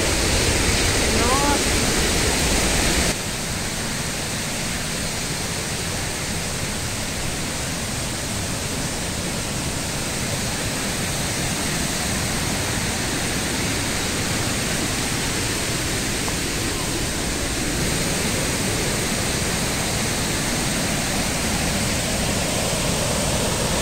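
Loud, constant roar of rushing water from a powerful waterfall nearby, Salto do Rio Pardinho in Rio Grande do Sul, a dense unbroken wash of noise with a brief louder patch at the start.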